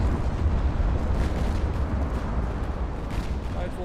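Torpedo hits on a warship in the naval strategy game Ultimate Admiral: a dense, continuous rumble of explosive booms and low roaring blasts, loud and sustained with no clear gaps.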